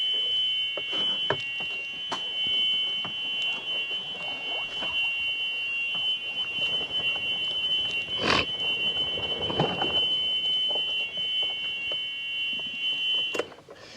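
A golf cart's steady high-pitched reversing warning tone drones continuously over rumbling vehicle and road noise, with occasional thumps and rattles.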